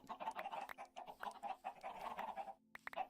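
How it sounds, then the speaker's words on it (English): Chickens in the Minecraft video game cluck repeatedly in a busy, overlapping stream of short fowl calls, moderately close and steady, with a brief pause near the end. "I don't have, like, 2 stacks of chickens in here yet."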